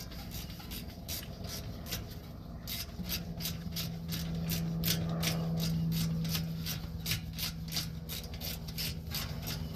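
A ratchet wrench backing out 7mm Allen bolts on the rear brakes of a 2022 BMW 228i Gran Coupe, a quick, regular string of close clicks with a faint hum underneath.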